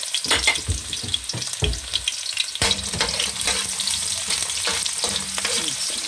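Garlic and onion sauté in hot oil for pork pochero, a steady sizzle broken by sharp clattering strokes of a spatula against the pan, close and fairly loud throughout.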